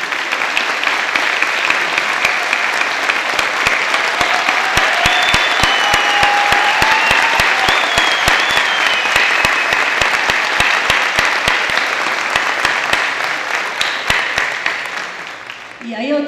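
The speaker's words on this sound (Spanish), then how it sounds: "Yo pido por favor un aplauso para ella" A crowd at a book presentation applauds the book's editor in a long, dense, steady round of clapping that stays loud throughout, with a few raised voices mixed in before it thins slightly at the end.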